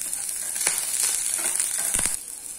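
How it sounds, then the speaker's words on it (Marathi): Radish lightly sautéing in a pan over a medium flame, a soft steady sizzle broken by a few scraping stir strokes and clicks, with no talking. "फ्लेम मीडियम ठेवली आहे आणि त्याच्यावर थोडंसं परतून घेणं चालू आहे"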